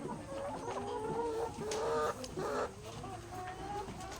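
Several chickens clucking and squawking close by, irregular overlapping calls with a few louder bursts, and faint voices in the background.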